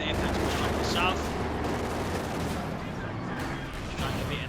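Company of Heroes 2 battle near a church, with dense, continuous artillery and gunfire crackling and booming close by throughout, with no pauses.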